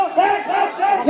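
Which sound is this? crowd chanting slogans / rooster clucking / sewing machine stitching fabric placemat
crowd chanting slogans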